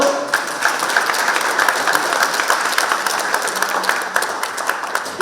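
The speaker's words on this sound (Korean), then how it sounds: "이 후보들에게 여러분 격려의 큰 박수 한번 보내주십시오" Sustained applause from a large crowd at a People Power Party joint campaign rally in Daegu and North Gyeongsang, greeting the candidates; dense, steady clapping fills the whole stretch.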